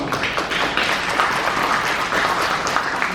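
Audience at a book launch applauding together, a steady wash of many hands clapping at moderate loudness for the whole stretch, with no talk over it.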